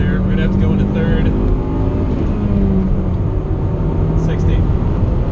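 A 2005 Chevrolet Cobalt with a manual gearbox accelerating hard, its engine droning loud and steady from inside the cabin, gear changes blending into a constant road and wind roar while someone talks over it.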